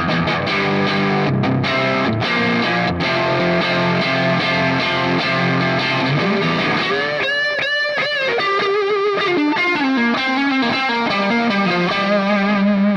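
Heavily distorted electric guitar through a drive pedal model on a Nux MG30 multi-effects unit, sustained saturated chords giving way to a run of rapid picked notes, loud and continuous with no talking.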